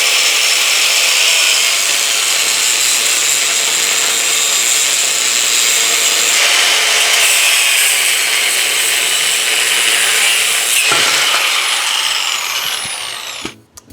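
Rust being cleaned off a Jeep Cherokee XJ axle with a power tool: a loud, continuous abrasive grinding that stays even for about twelve seconds, then breaks into a few scrapes and stops.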